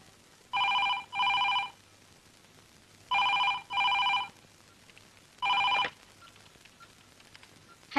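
A telephone rings in a newsroom: three clear electronic rings, the first two doubled bursts and the last a single burst, with quiet pauses between them and no talking.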